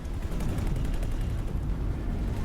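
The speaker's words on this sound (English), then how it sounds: "I'm firing at the Xenon." Ship weapons firing at Xenon enemies in the space game X4: Foundations, a steady dense rumble of rapid shots and booming impacts with no pause, heavy and close.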